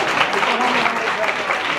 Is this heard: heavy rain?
no